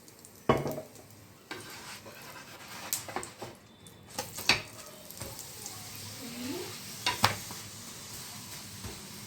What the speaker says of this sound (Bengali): এবারে আমি তেল দিয়ে এটাকে ভেজে নেব।